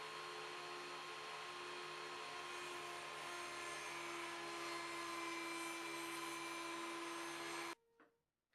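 A power saw blade cutting slots in a wooden piece for a slit drum: a steady, loud whining hum with a constant pitch that holds for about eight seconds, then cuts off abruptly into near silence.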